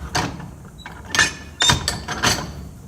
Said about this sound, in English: clamping it in here on the vise